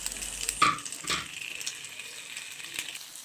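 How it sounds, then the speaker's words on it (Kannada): Fish fries in coconut oil over whole curry leaves, with a continuous crackling sizzle and a couple of louder splattering bursts early on. "ಫ್ರೈ ಆಗ್ತಾ ಇದೆ ಮೀನು"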